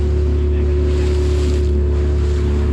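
A boat travelling on the sea near Gorai produces a loud, steady engine drone mixed with wind and water rush, unbroken and close throughout.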